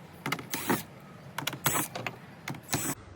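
Panel screws on a Maytag washer are backed out with a small powered driver in short repeated whirring bursts, some paired, close and moderately loud.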